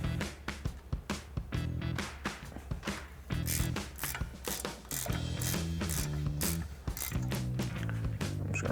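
A hand ratchet clicks rapidly and continuously up close while turning bolts on a Jeep Wrangler JK wheel hub, its dense metallic pawl ticks filling the whole stretch.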